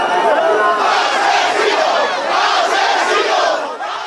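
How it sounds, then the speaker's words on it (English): Hostile crowd of protesters in Paiporta near Valencia, a flood-struck Spanish town, chanting and shouting in unison as the Spanish king visits; a loud, dense wall of angry voices, steady throughout with rhythmic swells. "A hostile crowd greeted them with cries of asesino, or killer in English"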